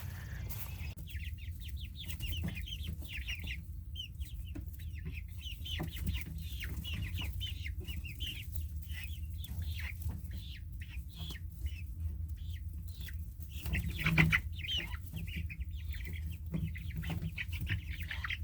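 Chickens cluck and murmur near a newly built chicken coop, a steady close chorus of short clucks and chirps over a low constant hum, with a slightly louder squawk partway through and no talking.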